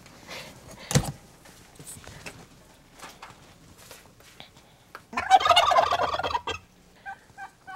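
Turkeys gobble in a loud, rattling burst, preceded by scattered quieter clucks and a sharp thump, with fainter calls trailing afterward.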